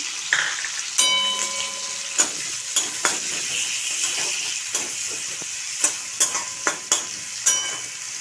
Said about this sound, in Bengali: ভালো করে একটু নেড়ে চেড়ে নেব দু থেকে তিন মিনিট